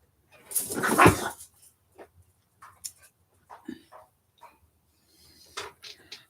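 A frightened dog jumps up from its bed indoors with a short burst of growling and barking, followed by scattered soft whimpers and yips, close and intermittent.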